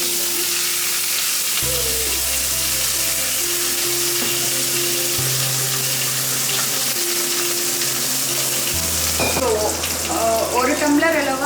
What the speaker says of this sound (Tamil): கொஞ்சம் கடுகு போட்டு கருவேப்பிலை கொஞ்சம்